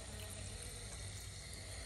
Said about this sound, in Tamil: ஸோ கீரைக்கு தேவையான தண்ணி ஊற்றிக்கலாம்.